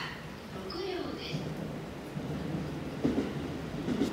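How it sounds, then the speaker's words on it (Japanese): A six-car commuter train pulls into a station, a low rumbling rolling sound building steadily with brief squeals near the end, while a young child and an adult talk over it. "来たね、電車。"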